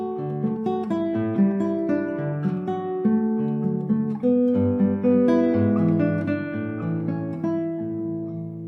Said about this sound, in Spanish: El ejemplo que vamos a usar en esta clase es la primera frase del estudio número 6 de Fernando Sor